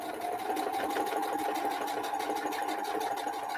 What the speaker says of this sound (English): Right now I'm sewing Kathy's block on